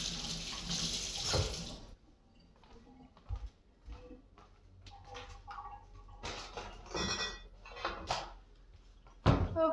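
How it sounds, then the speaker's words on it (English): Tap water runs loudly into a kitchen sink for a couple of seconds while hands are washed, then cuts off, followed by quieter clinks, knocks and handling noises. "I'm gonna wash my hands really quick."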